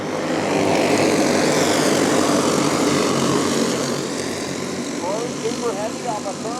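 Race cars roar off at the green flag start, a dense, loud engine drone that stays steady for several seconds before easing slightly, with a commentator talking over it.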